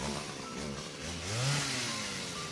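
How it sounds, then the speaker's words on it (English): In the RPG Maker horror game Hello Charlotte, a chainsaw runs in a character's hands, giving off a buzzing motor drone that rises and falls in pitch and swells briefly midway before settling. The sound is steady and close, with no talk over it. "Bennett suddenly turns around with the chainsaw still in his hands"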